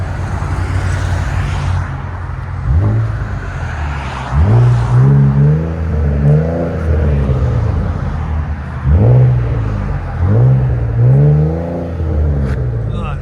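A Ford Explorer 3.5L EcoBoost V6 revs deeply through an aftermarket exhaust, rising and falling in several bursts, a low rumbling note swelling and fading, with voices talking over it.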